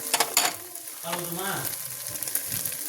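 Onion and tomato with chicken masala powder fry in a pan for chicken gravy, giving a close sizzle with clinks and scrapes of stirring and a faint murmur in the background.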